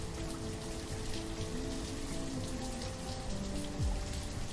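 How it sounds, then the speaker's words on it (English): Steady rain patters outside an open window in a continuous, even wash of drops, under a soft tonal background hum, with no speech. "I even opened my window so I could look out on the rain"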